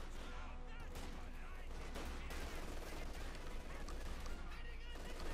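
MG42 machine gun fire in Company of Heroes 2, dense rapid rattling gunfire and battle noise filling the scene while a voice talks over it continuously.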